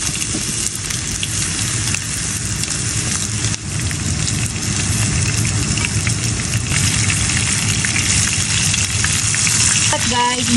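Loud, steady crackling sizzle of fish frying in hot oil, continuous and close, with occasional faint clinks near the end.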